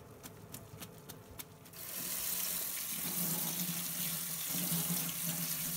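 Cold tap water runs steadily into a sink rinsing rapeseed greens, a broad rushing splash that starts after a few faint knocks and continues evenly to the end.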